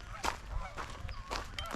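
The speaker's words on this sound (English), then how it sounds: "You can hear the geese and the ducks" Geese honk in scattered calls at a distance on a nature walk, with ducks nearby, faint over soft outdoor ambience and light wind.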